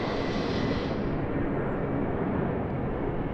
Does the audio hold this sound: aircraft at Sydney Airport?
yes